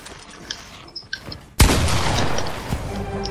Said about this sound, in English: why are you shooting at my wall?